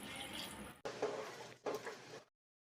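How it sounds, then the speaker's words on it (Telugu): Water poured from a glass into a pan of frying peas masala, a steady liquid rush that breaks off twice and then stops, close and fairly loud with no talk. "ఇందులోకి 1 గ్లాస్ వాటర్ని పోసుకొని నిదానంగా ఉడకనివ్వండి."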